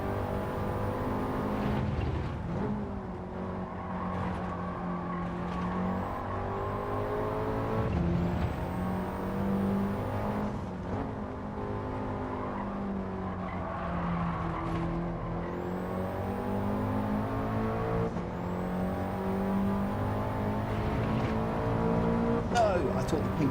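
Road car engine racing in Gran Turismo 7, a steady loud engine drone with rising and falling pitch through gear changes, under continuous talk throughout.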